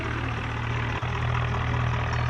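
A Swaraj 963 tractor engine in a video game idles with a steady low drone and brief dip near the middle, loud and close with no speech.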